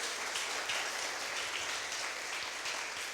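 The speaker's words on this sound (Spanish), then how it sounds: "¿Le da un aplauso de alabanza?" A church congregation gives a steady, dense round of applause in praise, continuous clapping filling the room evenly from start to finish.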